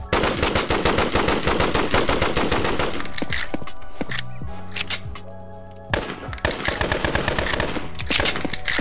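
Rapid bursts of automatic gunfire in the Roblox survival game Rust (Trident Survival) during a base raid, dense and loud for three seconds, then sparser shots and game sounds before heavy firing resumes.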